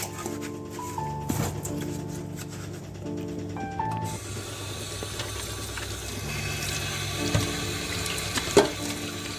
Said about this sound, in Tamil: இப்போ தண்ணி ஊற்றி கழுவியாச்சு